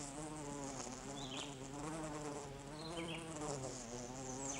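Close, continuous buzzing of bees, a steady droning hum with slight rises and falls in pitch, heard alone.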